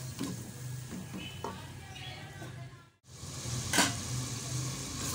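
Masala of cumin and spices with a little water sizzling and frying in a pan on a home kitchen stove, a steady close crackle with occasional stirring scrapes and a brief dip in the middle.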